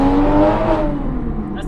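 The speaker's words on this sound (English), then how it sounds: "That sound is a drug to me. I love VTEC." A time attack Supra race car climbing Pikes Peak, its engine revving loud and close before the pitch drops away, with a voice talking over it.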